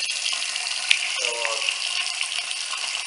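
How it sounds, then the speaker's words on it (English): Water running steadily from a sink tap in an older house, a continuous close hiss and splash with a brief gurgle partway through. "you can actually see the water flow increase again"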